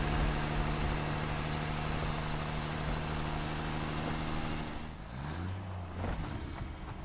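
A truck engine in the game Satisfactory drives with a steady, loud low drone and a constant hum, then dips and shifts pitch near the end as it slows or changes load.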